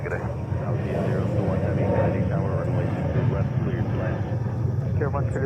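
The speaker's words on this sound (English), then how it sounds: "Clear for takeoff, runway 22 right, Hawaiian 51 heavy." A Hawaiian heavy airliner taking off from runway 22 right at JFK, a loud, broad, steady engine roar rumbling throughout, with people talking over it.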